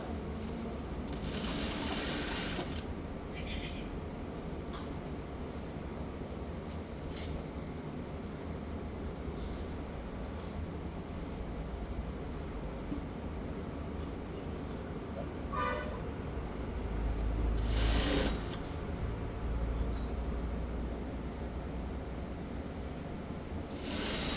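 A sewing machine stitches shirt fabric in short mechanical bursts at intervals over a low steady background hum, at moderate loudness.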